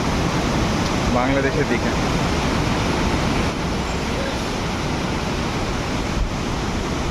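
Monsoon water rushes and roars at Borhill waterfall in Meghalaya, a loud, continuous broadband wash heard close by, with someone talking over it.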